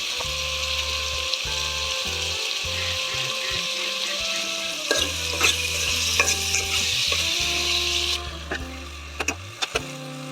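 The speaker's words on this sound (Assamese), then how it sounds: "মছলাখিনি দিয়াৰ পাছত নিমখ হালধি দি বিলাহীখিনি সিজালৈকে লৰাই থাকিম।" Tomatoes with spices, salt and turmeric sizzle steadily in hot frying oil while being stirred, with a constant loud crackle and intermittent scraping knocks of the utensil against the pan.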